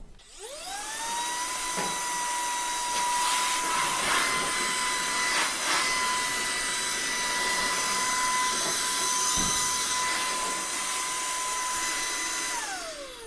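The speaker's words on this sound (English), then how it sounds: "This is a vacuum attachment that helps you suck all the lint out of your dryer." Vacuum cleaner fitted with a Hurricane Lint Lizard attachment sucking lint out of a clothes dryer, a loud steady whine that spins up, holds for about twelve seconds with some rattling and suction changes, then winds down.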